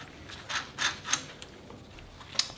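A nut is threaded onto a bolt through an alternator bracket on a Cummins-swapped Land Cruiser, giving a few close, soft metallic scrapes and rattles with pauses in between.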